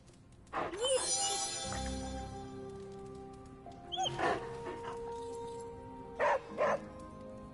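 A puppy gives short whimpers and yips in a few brief bursts, with soft ambient sound between them and no talking.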